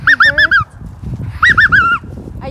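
Geese at a park give loud, close honks in two quick rhythmic runs of four or five calls each, with low background rumble between.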